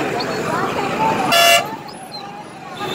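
A vehicle horn gives one short, loud honk amid the noise of a roadside crowd gathered to welcome a chief minister in Jalore, with traffic and chatter around it.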